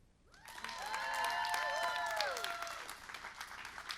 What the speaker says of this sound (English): I would appreciate you clapping for my team